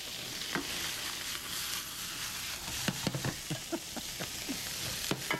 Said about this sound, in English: You want to keep this frying pan on really high until the shrimp kind of sizzles down a little bit.